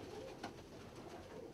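Saxon double-crested priest pigeon cooing, low soft murmuring coos, faint and close, with a quiet background hum.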